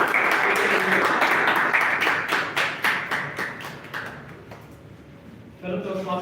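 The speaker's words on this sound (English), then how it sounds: "Can you round of applause?" Toastmasters club meeting audience giving a round of applause, a burst of close hand claps that thins out into scattered taps and fades, followed by a voice starting to speak at the end.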